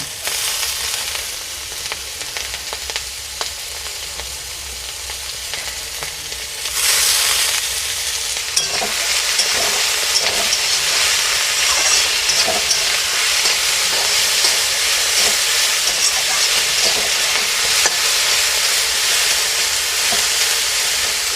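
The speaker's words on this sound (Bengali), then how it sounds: "এই দেখুন এভাবে আমি হালকা করে একটু ফ্রাই করে নেব" Squeezed, drained mushrooms fry lightly in a pan for mushroom masala, giving a steady broad sizzle that grows noticeably louder partway through and then holds constant, close and continuous, with no voices.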